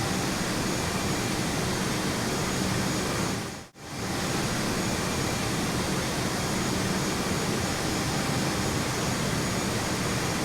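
A Sukhoi Superjet 100 takes off at Halim airport, a loud continuous jet engine roar filling the whole stretch with one brief dropout partway through.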